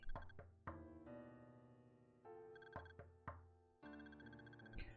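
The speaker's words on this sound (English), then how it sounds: "They're still knocking on the door." Sharp knocks strike a door in a video game, several quick raps spaced across a few seconds against sustained musical tones, with no voices.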